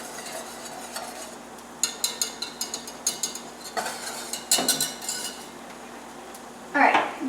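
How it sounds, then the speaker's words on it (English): A spoon stirs thickening mac and cheese sauce in a pot, clinking against the metal in a series of rhythmic, close taps, then a louder scraping rattle near the end. "I'm now going to mix it all up."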